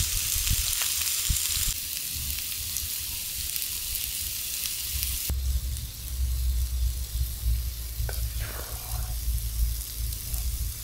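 Soft potatoes fry and crisp in a pan outdoors, giving a steady loud sizzle and hiss throughout, with a low rumble underneath and a few faint clinks, and no voices.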